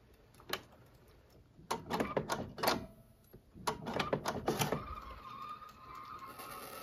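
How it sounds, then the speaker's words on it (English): Epson ET8550 printer drawing in a sheet of 280gsm card, with a soft click, then bursts of whirring and ticking from the feed rollers and mechanism, ending in a steadier motor hum, close and quiet. "And the printer has taken the card."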